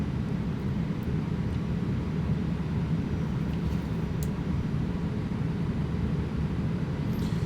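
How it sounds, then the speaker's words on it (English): Inside the cockpit of an airliner in the X-Plane 11 flight simulator, the cabin noise is a loud, constant low roar that stays even throughout, with no speech. "Man, the airplane is loud in the cockpit."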